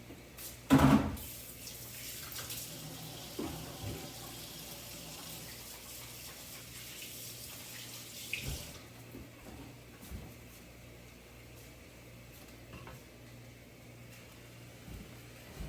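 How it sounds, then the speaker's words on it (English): Water runs from a kitchen tap while hands are washed beneath it, a soft steady splashing with a brief louder gush at the start, no talking. "I'm just going to give my hands a quick wash just to make sure in case I touched anything nasty."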